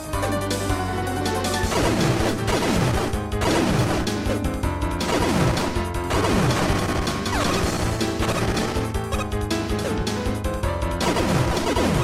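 Boss battle in Mega Man 3D 2 with the Magma Bazooka weapon, a dense run of loud crashing impacts and whacks repeating steadily over game music, no talking.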